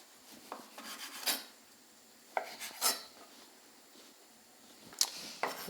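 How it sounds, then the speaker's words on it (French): Knife scraping and slicing the tough rind off a piece of bacon on a board, a few faint, sharp rasping strokes and clicks separated by quiet pauses, with no talk. "On va juste découiner très rapidement, très simplement, ce petit morceau de couenne qui est un peu dur."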